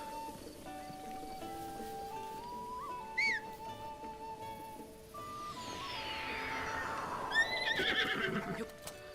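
Horse in a Zelda-style video game whinnies with a rising call, then hooves clip-clop under music and game effects in a rainforest area, the neigh standing out clearly near the start.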